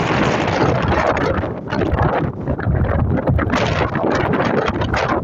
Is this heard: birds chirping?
no